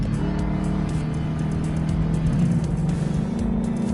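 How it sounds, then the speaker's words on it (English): A V8 engine rumbles in a driving video game, a steady, deep, loud drone with a constant throaty growl that holds evenly throughout without pause. "The rumble of the V8."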